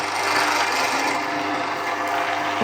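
An oil press machine runs steadily while seeds are poured in, giving a loud, continuous grinding and rasping drone with a constant mechanical hum and no pauses or speech.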